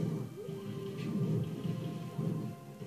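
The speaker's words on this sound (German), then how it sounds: "Nein, sie haben einen Blitz." A lightning item strikes as rumbling thunder in Super Smash Bros Ultimate, a low rolling crackle under a steady rain-like hiss lasting several seconds, with a faint rising tone early on.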